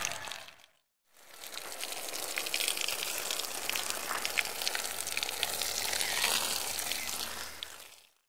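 Water poured gently onto a soil seedbed in a plant nursery, a steady soft splashing and trickling patter close by that runs for several seconds after a brief pause at the start.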